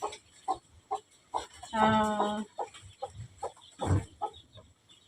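Soft, rhythmic clucking from chickens pecks along in short bursts, with one longer drawn-out call in the middle and another near the end.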